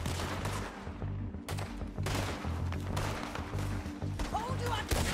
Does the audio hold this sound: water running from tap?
no